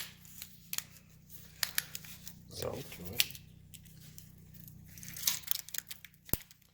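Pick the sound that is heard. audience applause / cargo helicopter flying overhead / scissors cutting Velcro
scissors cutting Velcro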